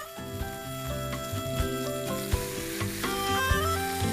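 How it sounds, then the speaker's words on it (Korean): Mackerel fries in an oiled pan over high heat, giving a steady, close sizzle with small pops throughout, with background music playing. "식용유를 두른 팬에 고등어를 올린 다음 앞뒤로 노릇하게 구워주는데"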